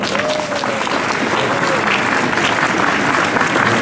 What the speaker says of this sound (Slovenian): en lep aplavz za našo podžupanjo Tjašo Ficko